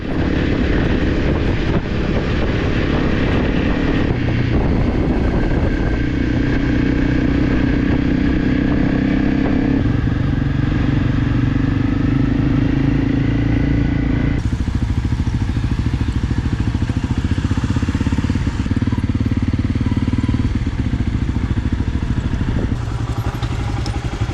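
Adventure motorcycles on the Idaho Backcountry Discovery Route, a loud, steady engine drone under heavy wind buffeting, with the pitch and tone shifting partway through as the ride continues, no voices.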